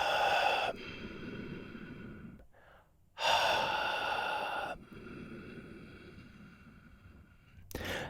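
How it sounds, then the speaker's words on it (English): Deliberately exaggerated deep breathing during a guided meditation: two long, loud breaths close to the microphone with airy rushing noise, separated by quiet pauses, and a third breath starting at the end. "I'm kind of over breathing"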